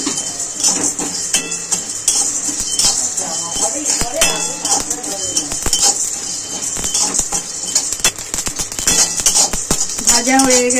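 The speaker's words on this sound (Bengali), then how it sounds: "নেড়ে চেড়ে ভেজে নেব গোলমরিচ আর জিরেটা।" Black peppercorns and whole cumin seeds dry-frying in a pan, stirred with a metal utensil, giving close, steady scraping and clinking with light rattling of the seeds throughout.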